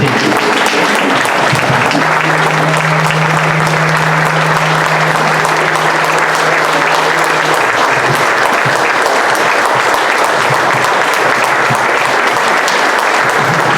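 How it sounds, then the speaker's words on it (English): Sustained applause from a crowd at a children's charity event, steady clapping that carries on for over ten seconds, with a brief tonal hum partway through. "give her a round of applause"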